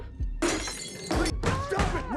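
A porcelain collection is broken piece by piece, with three loud, close shattering crashes in rapid succession, each followed by ringing shards and thumps.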